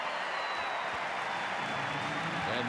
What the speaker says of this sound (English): the Welsh supporters in the crowd love it